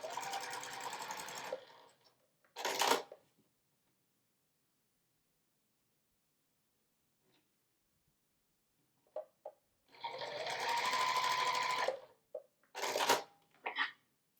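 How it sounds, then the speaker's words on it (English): A sewing machine stitches quilt pieces for a watermelon wall hanging, running in short close bursts of rapid whirring separated by long silent pauses. "I'm going to stitch across that line."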